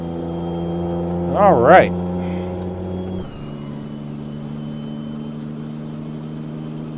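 A Ford 9000 truck engine in American Truck Simulator revs up in two sharp rising-and-falling surges, then drops to a steady lower drone as the gear comes down; someone talks briefly over it.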